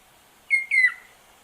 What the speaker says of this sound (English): Rufous ant pitta, Bolivian.